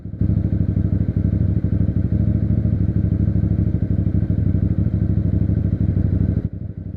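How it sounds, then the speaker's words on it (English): A motorcycle engine idling steadily, a loud, close, continuous low throbbing with rapid regular firing pulses and mechanical clatter that cuts out abruptly near the end. "Can anyone guess by the sound of the engine what RPM it's at right now?"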